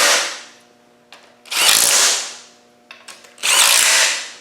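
Pneumatic impact gun nipping down engine oil sump bolts evenly in a diagonal pattern, two long loud rattling bursts with a shorter one at the start, separated by brief clicks and pauses.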